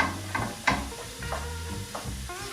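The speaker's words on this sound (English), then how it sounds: "So I can hear it starting to sizzle." Sausage browning in a frying pan, giving a soft sizzle under clinks and stirring scrapes, close and moderately loud, with no talk.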